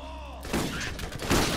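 Gunfire in the co-op shooter game Borderlands erupts after a brief lull into a dense, loud burst of shots and impacts that continues to the end.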